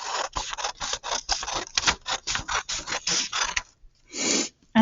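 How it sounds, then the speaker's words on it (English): Close scissor-like snips and scraping rasps cutting a paper page along a vertical line, a steady run of short strokes for several seconds, a pause, then one longer final rasp. "I'm going to cut along this vertical line."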